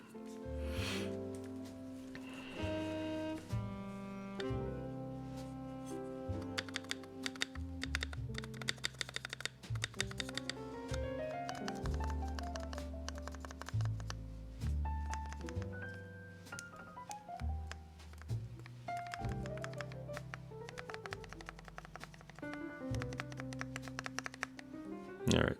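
Rapid, steady typing on a Keychron Q1 keyboard built with Lavender switches, Ink stabilizers and black-on-white GMK keycaps, close and crisp with dense clacking keystrokes and occasional louder bottom-outs.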